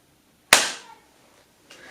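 A single sharp hand clap rings out close and loud, used to sync a recording, decaying quickly into quiet, with a faint second noise near the end.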